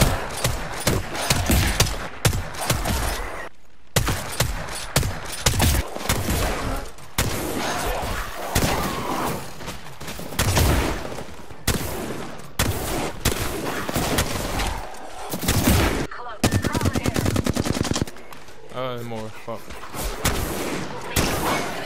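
Rapid, loud bursts of video-game gunfire crack and thud almost continuously, with heavy automatic fire and brief pauses, while a player talks over the shooting.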